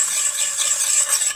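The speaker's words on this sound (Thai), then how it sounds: "คนนะคะ คนให้น้ำตาล" A spoon stirs sugar into the dressing of a Thai raw shrimp salad, a short, steady scraping and swishing close by.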